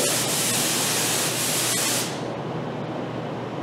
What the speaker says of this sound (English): watch how nice this shoots this primer gun